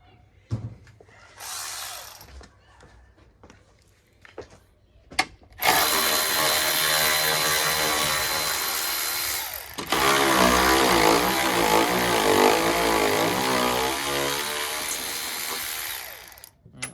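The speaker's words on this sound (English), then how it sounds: "my cordless ratchet, so then I can take the strut off" A cordless ratchet with a 13 mm socket spins out the strut bolts on a Renault Clio Mk4. A few scattered knocks come first, then a loud, continuous close-up whir runs for about eleven seconds with a brief dip partway through.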